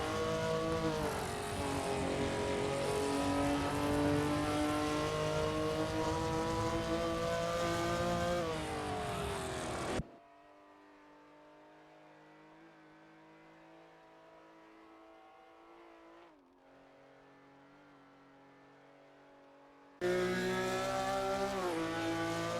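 Race cars in a racing video game, including a BMW M1 Procar and a Chevrolet Corvette C3, their engines droning and revving loudly with shifting pitch, dropping to a quieter single engine mid-way before the full pack roars back.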